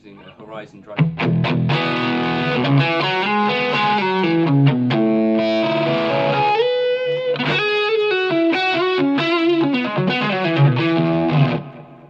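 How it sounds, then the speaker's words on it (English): Electric guitar through the Horizon drive of a Line 6 Helix running firmware 3.0, playing a loud distorted melodic riff of sustained notes and quick runs for about ten seconds, with no talking over it. "it's using a Horizon drive"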